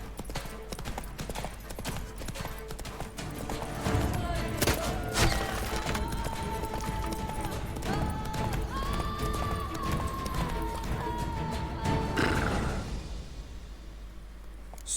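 A horse gallops in The Witcher 3 video game, with a steady rapid drumming of hoofbeats that runs throughout, loud and close. A rising whinny-like tone sounds near the end as the galloping fades out.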